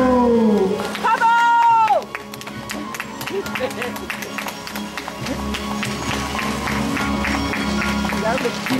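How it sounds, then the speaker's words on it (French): A crowd claps for participants arriving at the Marcinelle en montagne 2014 event. A steady patter of applause mixed with crowd noise follows a few seconds of announcer talk, and scattered voices continue over it. "on peut les applaudir bien fort"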